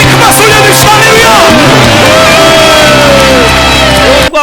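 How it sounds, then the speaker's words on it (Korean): A congregation at a Friday worship gathering erupts in loud cheering and shouting with whoops and raised voices, a crowded, boisterous roar that cuts off abruptly at the end. "하나님께 영광의 큰 박수 올려주시오"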